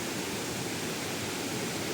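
A river at Payat Campsite in Batu Kurau, with clear water, rushing steadily as a dense, even broadband wash close by, with no voices.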